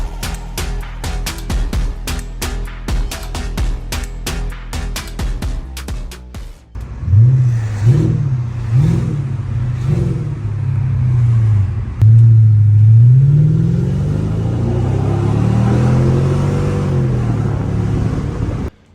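A Mercedes E500 with a muffler-delete exhaust starts with clattering cranking, then barks into life and is revved repeatedly, loud deep blips rising and falling, ending in sustained roaring revs close up.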